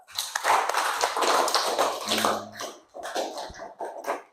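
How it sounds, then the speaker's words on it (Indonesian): Classroom applause for a student named Iqbal, a dense patter of small-group clapping lasting about two and a half seconds, then thinning into a few scattered claps. "Tepuk tangan untuk Iqbal."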